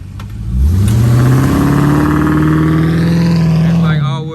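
A 2017 Dodge Durango with all-wheel drive revs hard as it pulls away from a brake hold. The loud, close engine note climbs in pitch, then holds steady for several seconds before easing off.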